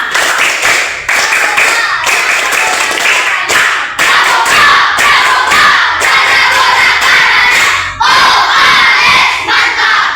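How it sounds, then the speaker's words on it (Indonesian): A class of schoolchildren performs the Pramuka scout clap chant twice over, loud rhythmic group clapping in bursts with shouted chanting voices, close and filling the room. "2 kali tepuk pramuka."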